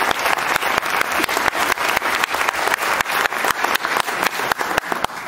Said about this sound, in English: I think they deserve a warm round of applause.